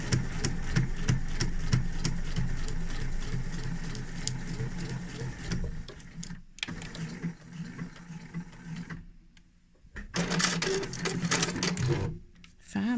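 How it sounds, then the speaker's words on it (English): Sewing machine stitching a zipper into fabric, running in steady rapid bursts with brief pauses and restarts, close and fairly loud. "I'm just sewing to where the mark is, I'm not sewing all the way."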